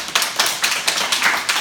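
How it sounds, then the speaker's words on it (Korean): An audience claps in a steady, rhythmic round of applause, crisp and close, with no voices over it. "다시 한번 박수."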